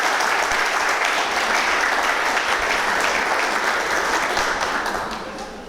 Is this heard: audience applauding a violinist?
yes